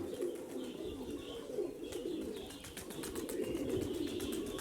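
Pigeons at feed coo softly and continuously in low, rolling calls, with faint chirps and light fluttering noises around them.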